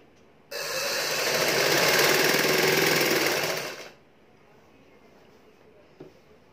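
An electric sewing machine stitching a kurti runs in one loud, steady whirring burst of about three seconds before stopping, followed by quiet with a small click.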